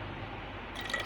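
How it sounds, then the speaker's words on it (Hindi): Soda water is poured into a jug of lemon and water, a close, steady fizzing pour with a few bright splashy drips toward the end. "साथ ही हमने इसके अंदर जो सोडा वाटर है हमारे पास वो हमने ऐड कर दिया"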